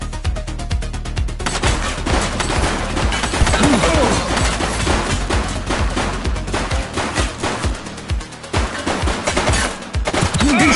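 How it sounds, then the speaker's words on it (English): Rapid bursts of gunfire in the police video game The Precinct, sharp overlapping shots and automatic fire crackling steadily for several seconds, loud and continuous. "Shots fired!"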